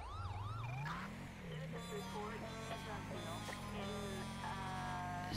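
A custom police car siren in the GTA video game wails with rising and falling sweeps, loud and continuous, layered with electronic tones and steady engine noise throughout.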